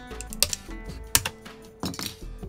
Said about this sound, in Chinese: 直接从后面把盖子给它撬开。